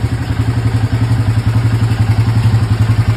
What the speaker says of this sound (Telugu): నేను బైక్ ఇప్పుడే స్టార్ట్ చేసిన